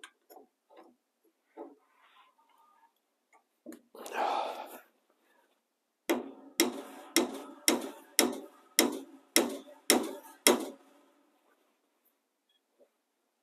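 A big hammer striking an exhaust manifold into place on a car: eight evenly spaced, sharp metallic blows in a steady rhythm after a few softer taps and a brief rustle, close and fairly loud.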